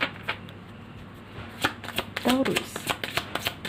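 Tarot cards being shuffled, with a rapid series of soft riffling flicks and slaps as cards fly from the deck, close by, while someone speaks briefly over them.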